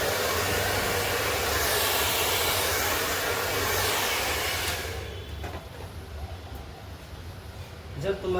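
A home hair dryer blowing hair runs loud and steady for about five seconds, then cuts out, leaving quieter room sound with brief handling noises at the end.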